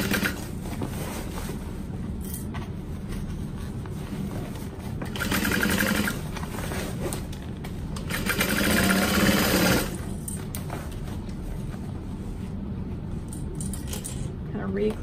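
A sewing machine stitches the lining of a duffel bag, running in steady bursts that swell louder twice before easing off, the whir close and continuous throughout.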